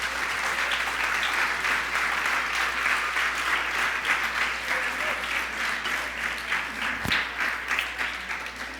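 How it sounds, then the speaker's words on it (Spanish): A church congregation applauds during a pastor's sermon, a dense, even wash of clapping that holds steady throughout, with no voices over it. "¿Por qué no le das un aplauso a tu Señor mientras yo tomo esto?"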